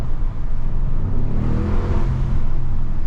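Audi SQ7 twin-turbo V8 SUV pulling hard at full throttle up a hill, a loud, steady low engine roar with a rising whir that holds throughout without a break.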